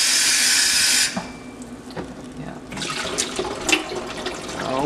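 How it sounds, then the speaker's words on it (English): Tap water runs loud and steady into a jug for Southern-style sweet tea, then cuts off after about a second, followed by quieter clinks and handling noises. "We're going to fill the jug up the rest of the way with some water."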